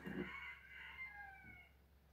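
A rooster crows once, a long drawn-out call fading over about two seconds, faint and somewhat distant with no talk.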